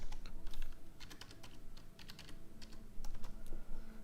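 Rapid typing on a computer keyboard, near and clear, with quick irregular bursts of key clicks and short pauses, without talk.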